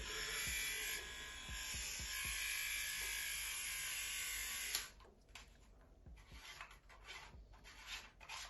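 A small handheld vibrator unboxed from a lost parcel gives a steady, close electric buzz for about five seconds, then cuts off, leaving handling rustles and scrapes.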